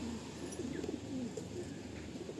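A Madrasi pigeon of the same breeding line coos in low, soft bursts nearby against a faint steady background hum.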